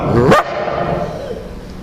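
A man imitates a dog bark with his voice, giving one short, loud, sharp yelp up close, followed by quiet room tone.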